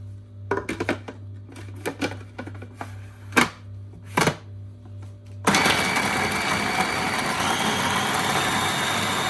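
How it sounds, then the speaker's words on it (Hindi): Coriander and green chillies chopped on a board, a few sharp irregular knife knocks close by in a quiet kitchen, followed by a sudden loud whirring like a grinder taking over. "धनिया, हरी मिर्च। इसको चॉप कर लेते हैं।"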